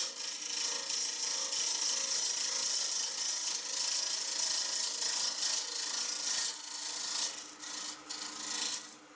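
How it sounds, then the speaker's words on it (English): A parting tool cuts a shoulder into a spinning wooden hollow form on a wood lathe, giving a steady, loud scraping rasp that runs nearly unbroken and dips briefly near the end. "I'm going to take this shoulder down"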